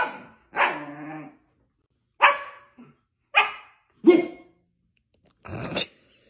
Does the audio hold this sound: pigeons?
no